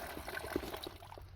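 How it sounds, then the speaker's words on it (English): Spring water trickling straight out of its mountain source in Utah high country, a soft, faint burble and splash of flowing water, close by and alone. "You could easily fill up water there. Coming right out of the source right here."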